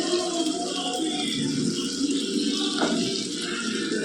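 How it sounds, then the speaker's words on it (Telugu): Water pours steadily into a ground moong dal paste in a cooking pot, a continuous close splashing and trickling stream with no talk over it. "ఇందులో నీళ్ళు వేసి కలిపేసుకుందామండి"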